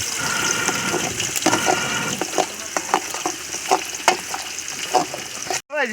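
Onions sizzling in hot oil with cinnamon, cloves, cardamom and bay leaf for chicken biryani, a loud steady crackle and fizz with stirring scrapes, close up, ending in a brief handling bump.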